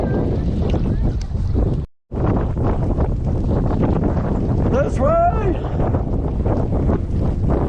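Strong wind from a sudden storm buffets the microphone in a steady roar, with a brief dropout, while people shout and talk over it outdoors near rocks by the water.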